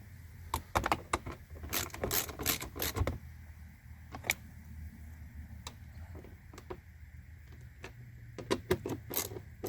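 Bolts are tightened down on a replacement driver side mirror of a 2016 Chevy, producing quick clusters of ratcheting clicks and ticks, close and fairly quiet, with short pauses between bursts and no talking.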